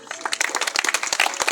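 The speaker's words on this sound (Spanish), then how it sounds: "Dense un fuerte aplauso" A youth group at a church campfire gathering breaks into loud, dense applause, many hands clapping rapidly and close together in a steady burst with no speech over it.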